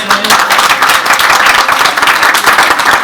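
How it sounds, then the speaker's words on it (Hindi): Loud, dense applause from a crowd at the Hinglaj Yatra pilgrimage, steady clapping filling the whole stretch with no voices over it. "वीरसीमल, लीलाराम और मुखी विनोद के लिए माता हिंगलाज पे तालियां बजाई जाए।"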